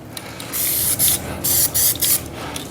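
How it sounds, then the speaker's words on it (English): Aerosol spray paint applied in short bursts to old Jaguar XKR small parts in a barn, several hissing sprays of about half a second each separated by brief pauses, close and fairly loud with no talking. "As always when you're spraying."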